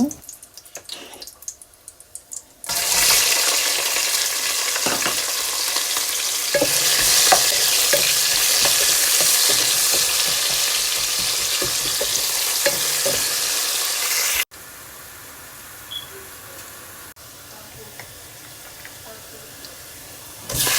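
Onions and whole spices such as cardamom and cinnamon frying in oil in a pan, a loud continuous sizzle that begins abruptly after a quiet start and later drops off to a softer hiss with a few faint knocks.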